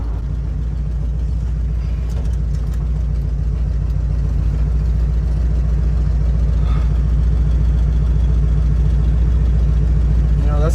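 A 1966 Ford Mustang engine that may have just blown a rod runs with a steady, loud low rumble throughout, with faint voices in the background.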